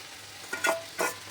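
Fried potatoes with cumin powder being stirred in a pan, two short scraping bursts of stirring over a soft, steady background sizzle, fairly close, no voices.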